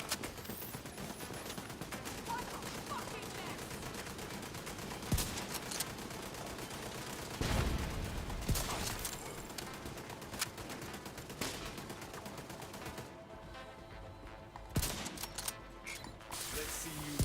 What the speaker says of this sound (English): Double turrets, we gotta get rid of those.